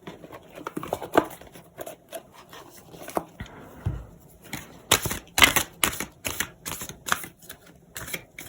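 Tarot cards are shuffled by hand up close. Soft rustles give way to a run of quick, crisp riffling clicks in a rough rhythm, with no talking.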